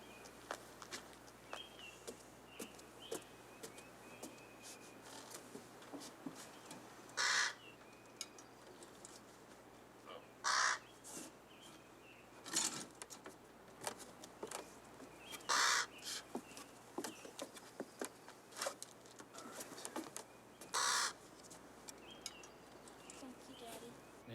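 A raven in the wilderness gives several loud harsh caws spaced apart over a steady outdoor background with soft rustling and footsteps-like scuffs between calls.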